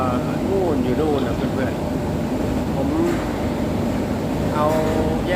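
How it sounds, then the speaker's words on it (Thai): Loud ventilation fans in a pig farm drone with a constant broadband roar close by, while someone talks over the noise and faint squeals rise intermittently. "ใกล้พัดลม เนาะก็เสียงดังหน่อยนะครับ"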